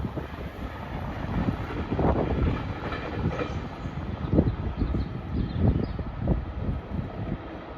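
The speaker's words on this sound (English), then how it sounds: "passing through now very slowly is a delayed Transport for Wales service from Cardiff Central to Milford Haven" A delayed Transport for Wales passenger service from Cardiff Central to Milford Haven creeps slowly through Pencoed station, giving a steady low rumble with soft rhythmic wheel clacks and faint higher whine, moderately close and without speech.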